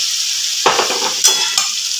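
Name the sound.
marinated chicken added to hot oil, frying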